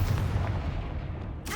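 A Confringo blasting spell bursts with a booming, explosive crack in the Hogwarts Legacy video game, loud and close, with a quick sharp tail at the end.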